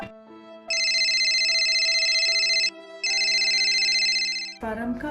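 A phone ringtone plays in two long bursts of bright electronic melody over a steady musical background, then breaks off at the end.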